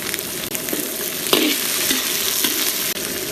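Spices and oil sizzle loudly and steadily in a wok on a rural kitchen stove while a utensil scrapes and pushes them around, with a sharp clatter partway through, close up and without speech.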